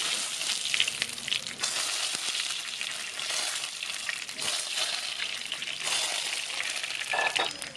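Brinjal pieces frying in hot oil in a pan, a loud, continuous crackling sizzle with occasional spatters and scraping sounds, close up and without talk.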